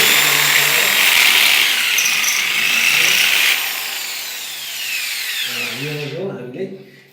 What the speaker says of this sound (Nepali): जति पनि यसलाई फिट गर्नुको लागि यो हामीले यो ड्रिल मेसिनद्वारा